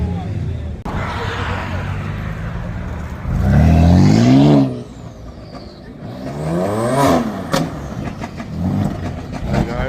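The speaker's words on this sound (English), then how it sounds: "We've got the same beamers down here making the same amount of noise." BMW cars rev at a nighttime car meet in a supermarket car park, with engine roars rising and falling in bursts, close and loud, mixed with people talking nearby.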